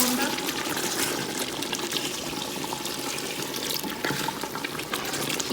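Hot water, 1.5 liters, is poured into a pot of mutton bhuna masala goat curry, giving a continuous close splashing and gushing rush that stays steady throughout.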